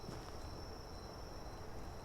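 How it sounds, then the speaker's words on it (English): Crickets chirp at night in the game Medieval Dynasty, a thin, steady high insect trill sustained throughout, faint over a low bed of ambient noise, with no voices. "You can hear the crickets."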